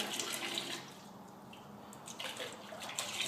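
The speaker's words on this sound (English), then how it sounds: "And then I'm going to add water." Water pours into a paint colorant mix, a soft continuous splashing and trickling at close range with a few brief drips, fairly faint and with no voices.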